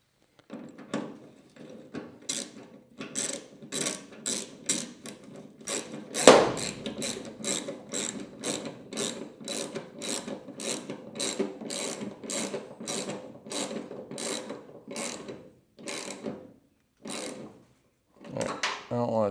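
A hand ratchet clicks in quick repeated strokes while a bolt is tightened on a Falcon hood support, close and crisp, with short pauses between bursts of clicking.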